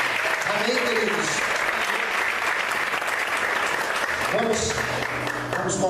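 Church congregation applauding to praise God during a Portuguese sermon, a steady dense wash of clapping filling the room for the whole stretch, with voices calling out over it in places.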